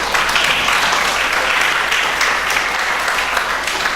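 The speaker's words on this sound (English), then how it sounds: "Give yourself a round of applause." Students at a reading competition final give themselves a loud round of applause, a dense, continuous wash of many clapping hands filling the room.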